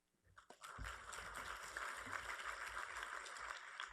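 An audience at a CSU Academic Senate panel breaks into applause as a trustee is introduced, the clapping swelling quickly and holding steady and moderately distant.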